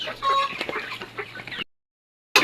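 Several farm chickens, part of a backyard flock of heritage hens awaiting vaccination, cluck close by in a busy run of calls, then a short silence before a brief sharp burst resumes.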